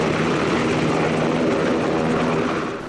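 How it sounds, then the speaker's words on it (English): A Coast Guard helicopter lands after a rescue of seven people stranded at sea, its rotors producing a loud, close, continuous thudding roar with a dense rumble that fades slightly at the end. "This was the scene as the Coast Guard helicopter landed with seven people on board"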